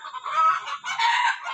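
A hen that has just laid an egg clucks loudly and close by in two bursts of rapid, throaty calls with a short pause between them, with no voices.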